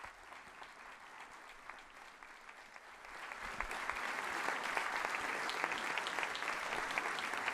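A hall audience, bishops among them, applauds as the Pope enters at the Palacio del Faro, a steady dense clapping that is fairly faint and distant, growing fuller halfway through.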